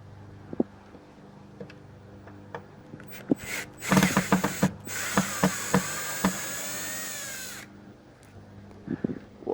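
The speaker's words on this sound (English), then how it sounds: "Just going to remove the screws." Screws removed from vintage Epicure M400+ speaker drivers with a cordless screwdriver, giving short whirring bursts and a ratcheting rattle among scattered clicks and taps up close.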